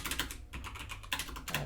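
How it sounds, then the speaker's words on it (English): Quick bursts of keystrokes on a computer keyboard, close and fairly quiet, in short uneven clusters with brief pauses between them. "I can't seem to type today."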